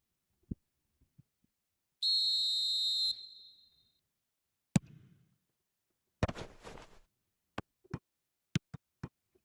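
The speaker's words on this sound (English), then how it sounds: "And the whistle's gone, presumably for offside." A single sustained referee whistle blast for offside in the football game eFootball 2025, lasting about a second, surrounded by sparse sharp clicks and taps on an otherwise quiet track.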